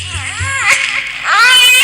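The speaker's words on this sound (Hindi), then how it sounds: "बच्चे की रोने की आवाज" An infant cries in a dense forest during a Hindi nautanki folk theatre performance, with wailing harmonic bursts rising and falling and a louder sustained cry near the end.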